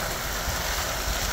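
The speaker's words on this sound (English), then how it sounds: "Look how pretty those fountains are right there." Outdoor water fountains splash in a steady, broad wash of rushing water that stays close and fairly loud throughout, with no voices over it.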